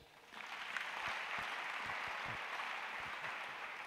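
A church congregation claps together in steady, sustained applause that swells quickly and holds, heard from a distance in a reverberant hall with faint low thumps beneath.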